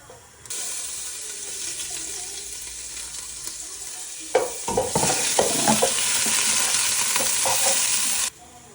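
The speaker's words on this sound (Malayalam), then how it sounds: "നമ്മൾ ഇഞ്ചിയും വെളുത്തുള്ളിയും കൂടെ അതെ നന്നായിട്ട് ചതച്ച് വെച്ചിട്ടുണ്ട് അതിട്ട് വഴറ്റാം" Crushed ginger and garlic are tossed into hot oil for a duck curry, setting off a loud, close sizzle that runs steadily for several seconds while a spatula scrapes and stirs through it.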